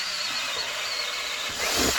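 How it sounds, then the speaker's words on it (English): A power drill bores retention holes through holster material, a steady high whirring spin that sharpens and grows louder briefly near the end, heard alone without talk. "So we'll go ahead, drill our retention."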